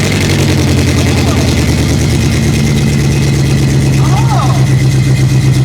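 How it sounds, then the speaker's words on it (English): A Chevrolet C10 truck engine runs loud and close through a new custom exhaust with no gaskets and leaky joints, a rough, steady idle rumble with constant pulsing throughout. "now we're about to listen to it. So, Well, it's definitely gonna have some exhaust leaks"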